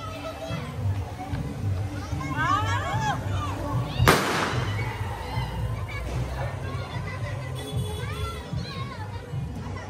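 Firecrackers go off at a Bhaubij celebration, with one sharp bang standing out mid-clip amid crowd noise and children's voices, as people talk throughout.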